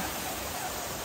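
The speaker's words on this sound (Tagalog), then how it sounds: "Agos ng tubig." Water rushing along a mountain trail makes a steady, full hiss of flowing water that fills the short moment without any break.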